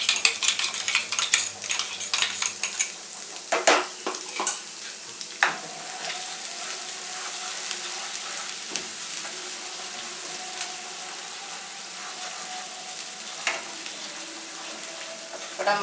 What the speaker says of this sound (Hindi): थोड़ा मसाला हमारा भून जाए।